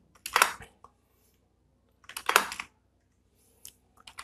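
Typing on a computer keyboard while entering a username, heard as two short dense bursts of close keystrokes separated by a pause, followed by a few isolated taps near the end.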